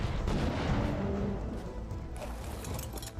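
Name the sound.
cannon firing at a Stegotetrabelodon in the video game ARK Survival Ascended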